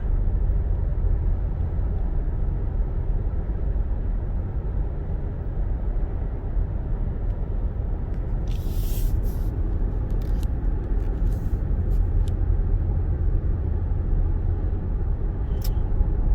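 A Lexus ES300h hybrid cruising down a road on cruise control, giving a steady, low cabin rumble of tire and road noise throughout, with a few faint clicks and ticks near the end and no talking.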